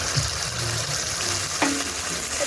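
Ground green chili and cumin hit a pan of browned onion and garlic, giving a steady, soft sizzle with a brief scrape of stirring partway through.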